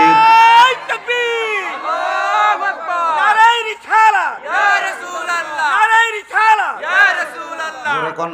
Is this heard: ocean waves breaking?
no